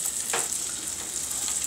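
Saganaki cheese grilling in hot olive oil in a frying pan, a steady close sizzle with a few faint pops and scrapes.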